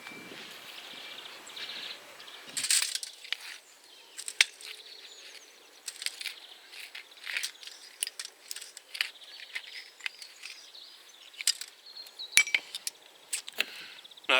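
Broken glass and asbestos are cleared out by hand in an allotment garden, with scattered sharp clinks and scrapes of glass fragments being picked up and dropped, irregular and close, with quiet gaps between them.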